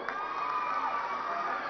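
A large crowd at a Bathukamma festival event cheers and shouts in a brief, continuous roar that sounds somewhat distant, with no clear voice on top.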